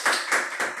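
A few sharp hand claps, about three evenly spaced in under a second, welcome a guest onto a podcast. They are moderately loud and close, with no talk over them.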